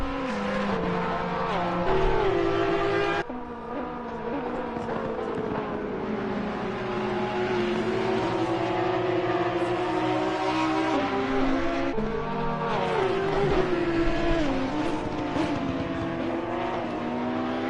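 A 4-litre flat-six race car at Donington Park roars steadily, its engine pitch rising and falling through gear changes, loud and close throughout with faint tyre squeal and no voices.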